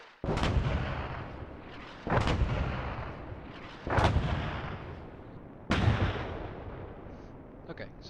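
Mortar rounds land and explode in an artillery video game, with four loud booms roughly two seconds apart, each one decaying into a long rolling rumble.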